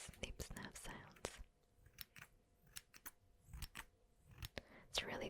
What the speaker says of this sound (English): I only had like some scissors to test some